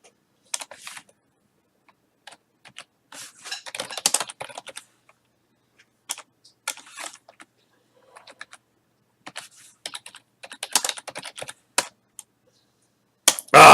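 Someone types on a computer keyboard in short, irregular bursts of crisp key clicks separated by silent gaps, ending with a louder clack.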